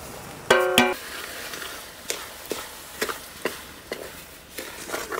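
A spoon stirring grated ash gourd halwa with sugar in a pan, with a quiet sizzle underneath and regular soft scrapes and knocks about every half second, close by, after two sharp clinks at the start.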